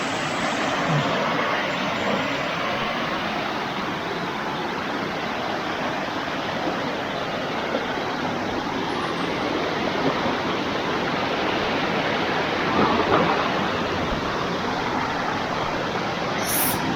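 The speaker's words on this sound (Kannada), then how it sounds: "ಇಲ್ಲಿಂದ ನೀರು ಕೆಳಗೆ ಹರಿತಾ ಉಂಟು." Water flows down at Mattavu Falls in Kabbinale as a constant broad rushing roar, loud and close, with no talk.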